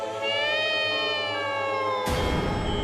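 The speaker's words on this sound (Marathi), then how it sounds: "मांजराचा हा असा आवाज कुठेतरी अस्वस्थ करणार आहे" Cat letting out a long, drawn-out, wavering meow, loud and near, held steadily for about two seconds before cutting off abruptly into noise.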